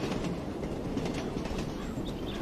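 In the horror game 6120, a train rumbles along the tracks with a steady, continuous roll and faint clickety-clack, close and loud, with no voices.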